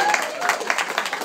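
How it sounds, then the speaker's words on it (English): A brief round of scattered clapping from a small crowd, heard under a voice. "I think a round of applause for Lynette."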